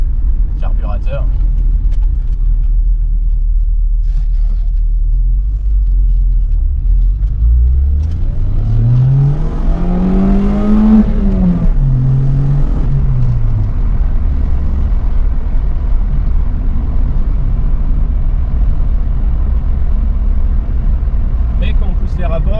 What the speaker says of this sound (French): On n'a pas spécialement l'impression que le moteur est rageur parce qu'à bas régime ça marche déjà bien.